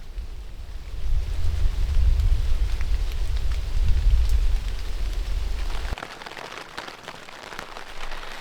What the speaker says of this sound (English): So we're in the tent. It started raining.